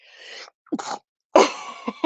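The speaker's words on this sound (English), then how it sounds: "Oh, sneeze." A single close sneeze: a sharp inhaled buildup followed by an explosive burst and a short exhale afterward.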